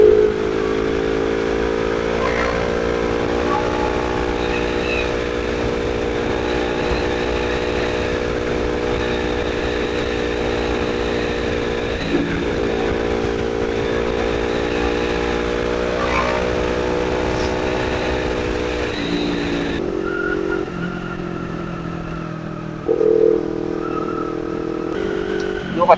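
Motorcycle cruising along an expressway at midnight, its engine droning steadily with a strong humming tone under rushing wind for a long stretch, then shifting lower near the end.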